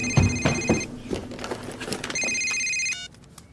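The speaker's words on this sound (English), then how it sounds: "It's ringing, it's ringing." A telephone rings in two electronic bursts, the first under a few thumps and clatter, the second clear and steady before cutting off.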